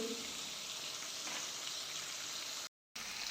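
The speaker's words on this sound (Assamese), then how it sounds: "ইয়াতে মাছ দি দিলোঁ, এইকেইটা মাছ ভাজা হোৱাৰ পিছত এইকেইটা ভাজিম" Fish frying in a pan for a pangas fish recipe, a steady close hiss of sizzling oil that holds evenly throughout with a brief gap near the end.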